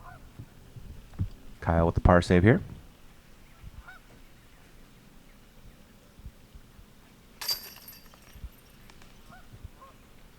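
A goose honks in a short burst of several nasal calls on a disc golf course during the 2020 USDGC tournament, fairly clear over quiet outdoor ambience, with a commentator's voice heard in the same stretch.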